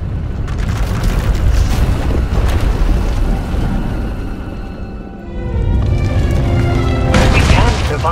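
A sci-fi power eruption tears through an asylum in the game SWTOR as a sustained, loud roaring boom with rumbling bass, briefly easing before surging again, with game dialogue or effects mixed in.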